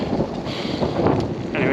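Gusty wind on Alaska's Dalton Highway buffets the microphone in rough, rumbling bursts that swell toward the end.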